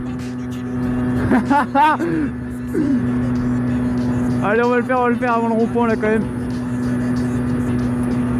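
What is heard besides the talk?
Derbi Xtrem moped engine while overtaking a truck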